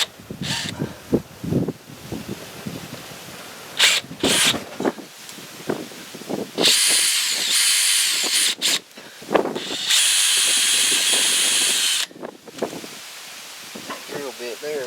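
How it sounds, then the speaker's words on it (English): A power drill bores through a Dana 30 axle during a sleeve install, with short bursts at first and then two longer, loud whining runs, followed by brief voices and handling noise. "I'm gonna get the drilling."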